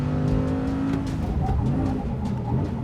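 An Audi car slides sideways around a race track, its engine droning loudly and steadily with tire noise throughout, close and continuous.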